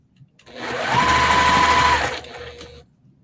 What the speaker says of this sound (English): 1/4 inch sewing. And you're chain stitching right now.